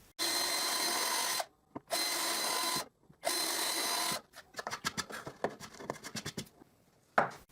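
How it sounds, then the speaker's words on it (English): A power drill bores guide holes into plywood in three loud sustained bursts separated by short pauses, followed by a string of rapid scraping and clicking sounds. "And I drill guide holes in the marks."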